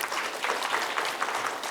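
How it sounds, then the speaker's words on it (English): Seminar audience applauding at a business conference, a dense steady patter of many hands clapping at moderate level, with no talk over it. "We'd like to give you a clap."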